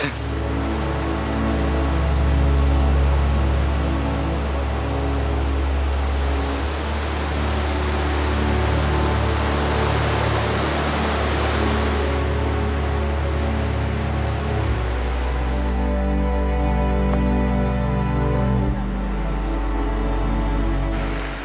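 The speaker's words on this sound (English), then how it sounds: "there is a lot of water down there. It is all white water, that's very noisy." White water rushes down mountain creeks into a valley in the Scottish Highlands near Glencoe, giving a loud, continuous, broadband roar that holds steady throughout with no voices over it.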